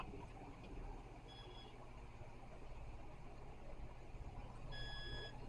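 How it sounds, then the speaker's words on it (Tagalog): A continuity tester's buzzer beeps faintly when checking a fuse in a Konzert AV 602R+ amplifier: two short tonal beeps over a low background hum. "Ayan o, mayroon siyang buzzer sound."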